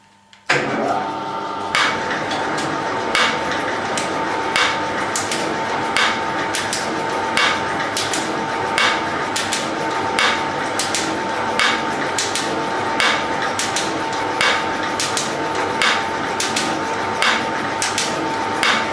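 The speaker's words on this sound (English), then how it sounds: "It's horrible steel, just black mild, but the shaper does a reasonable job." A metal shaper machine cuts black mild steel held in a vise, giving a loud, steady mechanical drone with sharp rhythmic knocks at each stroke, about one every second, running alone without talk.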